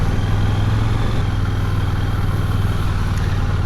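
KTM 890 Duke R motorcycle ridden in third gear at about 27 mph in street mode, giving a steady, smooth low engine drone with road and wind rumble, continuous and close throughout.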